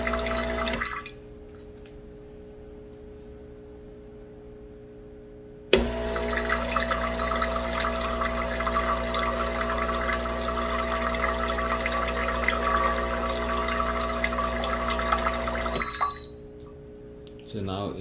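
Water rinses through the shower screen of a Breville Barista Pro espresso machine during descaling, a steady loud rush with machine hum that starts abruptly, runs for about ten seconds and then stops, leaving a quieter hum.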